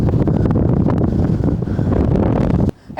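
Strong wind buffeting the microphone on steep Hallin Fell in the Lake District, a loud, continuous low roar that cuts out abruptly near the end.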